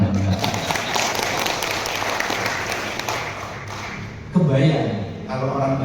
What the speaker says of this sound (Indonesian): Tepuk tangan bagi Batak.